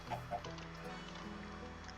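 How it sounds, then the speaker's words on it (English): Chicken clucking in a Minecraft-style block-building game, a few short soft clucks near the start over a steady low background hum, fairly quiet and alone. "We get a free chicken."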